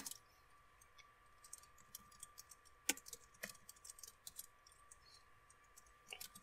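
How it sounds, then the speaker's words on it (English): Shader code being typed on a computer keyboard, a quiet, fairly close run of irregular key clicks with bursts and short pauses and one sharper tap, over faint background hum, no voices. "I'm going to do is just go ahead and type all this out"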